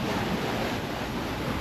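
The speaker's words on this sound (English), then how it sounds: "Well, not actually waves, it's more of a swell." Open Atlantic sea swell rushes and washes around a boat, a loud continuous roar of water mixed with wind buffeting the microphone, with no talking.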